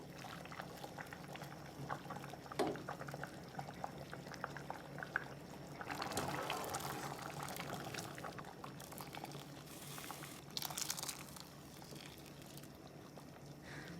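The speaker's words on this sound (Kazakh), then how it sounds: "Енді осыған 800 мл қайнаған ыстық су құямыз." 800 ml of boiling hot water pours steadily into a pot of lentil soup, a continuous rushing, bubbling splash with a louder surge partway through, close and alone without talk.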